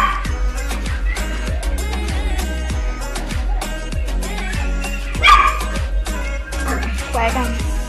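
A dog barks repeatedly in a steady series of sharp woofs, close and loud, on a beach at Caleta de Campos, Michoacán, with a few higher yips mixed in.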